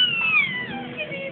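A house cat meows in a drawn-out, rising-then-falling call, close and fairly clear over light room noise.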